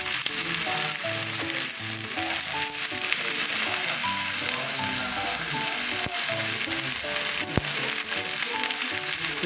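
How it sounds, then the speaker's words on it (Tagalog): Tomatoes sautéed in a pan sizzle and crackle continuously, a close, busy frying hiss with scattered pops and occasional stirring scrapes. "Medyo prituhin na natin saglit yung gisa-gisa na natin yung kamatis"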